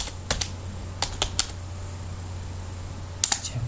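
Keys clatter on a computer keyboard while text is typed into MS Word: two short bursts near the start, a few isolated taps in the middle, and a final quick flurry at the end, close and crisp over a low steady hum.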